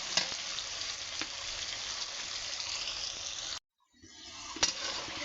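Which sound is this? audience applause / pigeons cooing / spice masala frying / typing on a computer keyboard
spice masala frying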